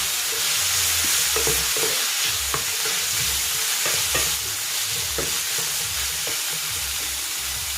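Seasoned ground pork giniling sautés in a pan with soy sauce, salt and pepper, a continuous loud sizzle broken by intermittent spatula scrapes and stirring clatter up close, with no talking.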